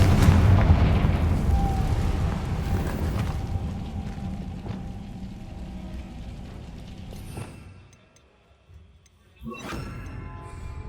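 A Confringo fire spell explodes in Hogwarts Legacy: a loud boom opens and rumbles away over several seconds, then a second burst crackles near the end.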